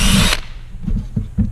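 Power drill whines loudly at high speed for a moment, then spins down and stops, followed by a few soft low bumps and handling noises.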